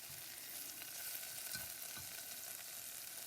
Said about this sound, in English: This is my first method of sauteing the shrimp.